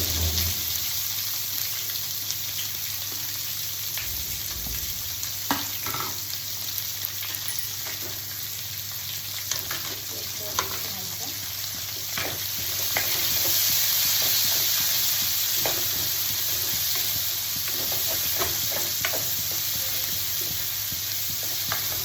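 Three onions fry in a pan with a steady, dense sizzle and scattered crackles and pops, close and continuous, swelling louder partway through.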